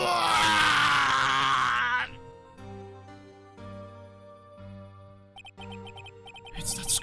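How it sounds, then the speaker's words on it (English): Dramatic scream from a character in Phoenix Wright: Ace Attorney, a loud strained cry at the start that cuts off into sustained game music with chiming notes, then a brief burst of noise at the end. "It's that scream I heard in the elevator 15 years ago."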